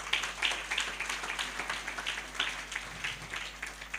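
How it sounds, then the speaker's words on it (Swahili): A church congregation applauding evangelists at a Sunday service, a spread of many hands clapping in irregular bursts, moderately distant in a large room with a light reverberant tail. "Tupigie hawa injilisti makofi."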